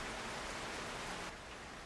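Steady winter rain falls in Marin, California, a soft, even hiss of drops close by with no pauses or voices, dipping slightly in level near the end.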